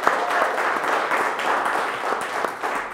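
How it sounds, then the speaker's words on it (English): Audience applause breaks out at a conference session as a guest is invited onto the stage, a dense, steady wash of clapping from many hands throughout. "she deserves a big applause"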